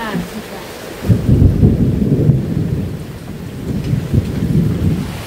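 Thunderstorm over farm fields in daytime darkness, with lightning flashes, heavy rain pouring steadily and deep thunder rumbling loudly through most of the stretch, near and continuous with no clear breaks.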